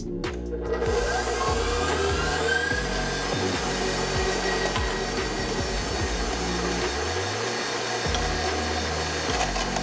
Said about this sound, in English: put our blade attachment in the shredding unit. Turn the stand mixer on to 10.